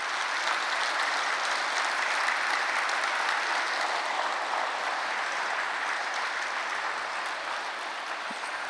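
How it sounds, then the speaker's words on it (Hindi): A seated audience at a spiritual meditation session claps steadily and vigorously, a dense, even wash of applause with no break. "एक बार सभी अच्छी तरह से चुस्त होने के लिए तालियां बजाएंगे अच्छी तरह से।"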